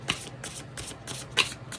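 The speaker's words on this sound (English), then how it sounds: "Do a little shuffle here." Tarot cards being shuffled by hand in a few quick, crisp riffling bursts, close and clear, with no talking.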